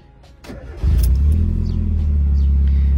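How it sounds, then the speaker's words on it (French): A Mazda Miata engine catches and settles into a loud, raspy, rumbling idle after a brief cranking, with a steady deep exhaust growl held close by. "le bruit du moteur est beaucoup plus rauque"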